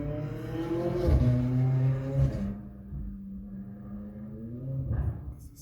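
Cars rev and accelerate on a Los Angeles street, a loud engine climbing twice before fading, then another rising rev near the end, heard at moderate distance without voices.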